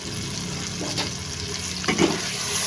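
Spices for potato eggplant curry fry in a pan with a steady, soft sizzle, broken by a couple of light stirring scrapes.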